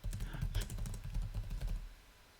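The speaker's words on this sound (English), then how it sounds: "Whoa, dude, don't type that fast." Fast, continuous clicking of keys on a keyboard, a close and dense patter of strokes that slows and stops near the end.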